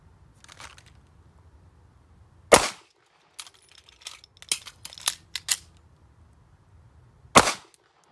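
Two sharp pistol shots several seconds apart during a dot torture shooting drill with a reload, with faint handling clicks and rattles of the reload between them, close and loud against a quiet background.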